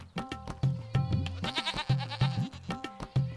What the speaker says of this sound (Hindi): यहाँ पिंटू की बकरियां बड़ी हो जाती है और वो अपने सारी बकरियों को लेकर बेचने चला जाता है।